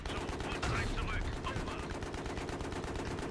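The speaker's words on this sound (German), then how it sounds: "Ich schieße auf ihn," Rapid gunfire from the player's weapon in the shooter game Battlefield 3, a dense, continuous rattle of shots that runs through the whole stretch at a steady, fairly loud level.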